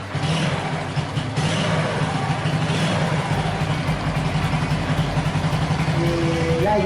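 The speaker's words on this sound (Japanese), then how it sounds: "エンジンスタート。" A Honda Super Cub motorcycle engine idles close by with a steady, loud, even putter that runs without a break. A faint high whine enters near the end.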